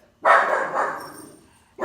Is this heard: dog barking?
yes